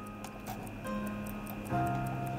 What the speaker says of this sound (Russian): карманные часы молнии, которые я вот вам показываю сейчас